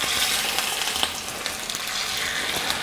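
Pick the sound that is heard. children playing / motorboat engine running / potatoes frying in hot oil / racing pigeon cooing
potatoes frying in hot oil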